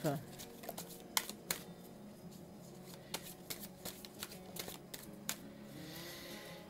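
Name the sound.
tarot cards being cut and handled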